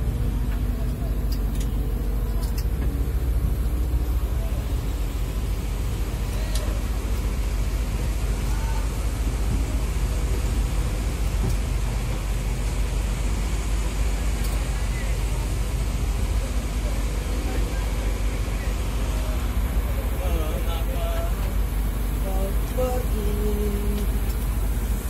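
An ALS 270 bus sits in a parking lot, its engine droning low and continuous throughout, with traffic-like rumble around it and faint background noise.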